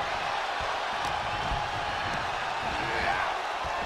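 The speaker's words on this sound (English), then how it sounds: "The WWE Universe is showing their appreciation for the action they're seeing." Steady roar of a WWE arena crowd cheering during a wrestling video game match, a broad continuous wash of noise at even loudness throughout with no distinct voices standing out.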